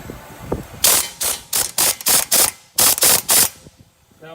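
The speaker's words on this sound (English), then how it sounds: "So I grabbed an 18mm with my swivel right here. Air impact." An air impact wrench fitted with an 18mm socket on a swivel loosens wheel bearing bolts on a 2013 Ford Taurus, firing about nine loud, rapid hammering bursts in quick succession, close up with no talk.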